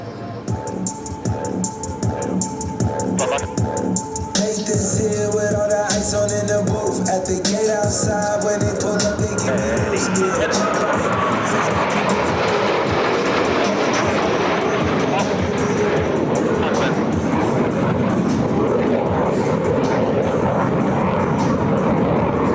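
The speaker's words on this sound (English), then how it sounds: "Approaching center point, they will roll their aircraft 360 degrees, pausing after each 90 degrees of rotation." Blue Angels Navy jets roar through an opposing four-point hesitation roll at an air show, a loud sustained engine rush that swells and sweeps past, with an announcer's voice heard over it early on.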